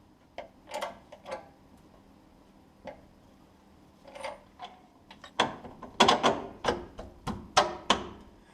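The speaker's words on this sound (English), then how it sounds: "So what I'm going to do is I'm going to jack up the pinion nose" A jack clicks and ratchets as it lifts the pinion nose of a truck's rear differential during a suspension rebuild. The clicks come as sparse, irregular bursts that grow louder and quicken toward the end.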